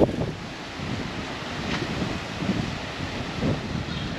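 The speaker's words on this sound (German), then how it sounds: "das Meer ist sehr aufgewühlt" Rough, churned-up sea off Sinop with wind buffeting the microphone, a continuous broad rush with surges of surf and gusts, fairly close and moderately loud, no talking.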